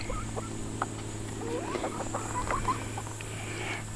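Backyard Rhode Island Red and Barred Rock hens cluck and make soft scattered calls under a steady low hum, fairly faint and close, with no one talking.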